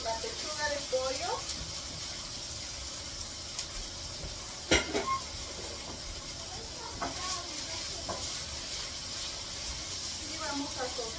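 Chicken breast sizzles in a pan during home cooking, a steady hiss with occasional clinks of utensils, while someone talks over it.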